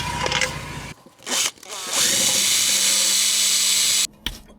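A power drill whines at high pitch in sustained bursts, close by, with short pauses between runs and a steady grinding tone as it drills out a seized rear ABS sensor on a Mercedes SL R230.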